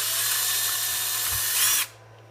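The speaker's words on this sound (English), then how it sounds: "drill a little hole into the top of that new plastic drive shaft cover we've made" A power drill bores a small hole into a plastic driveshaft cover on a Traxxas Slash 4x4 RC truck, whining steadily and loud for nearly two seconds before stopping abruptly.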